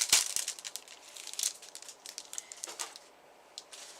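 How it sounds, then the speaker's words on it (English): A plastic bag is crinkled and rustled up close in short irregular bursts, faint and dry, with no voices. "Plastic bag noise."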